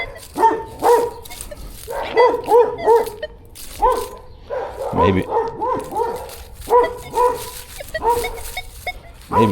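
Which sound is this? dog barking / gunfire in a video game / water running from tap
dog barking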